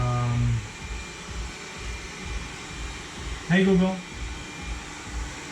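A robot vacuum cleaner controlled through a Google voice assistant hums faintly in the background of a home solar-build workspace, a low steady motor drone, with a person briefly speaking a voice command over it.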